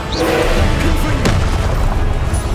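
In Hogwarts Legacy, a Confringo fire spell explodes with a loud, close boom and a sharp crack, ringing through a dense, rumbling game battle soundscape.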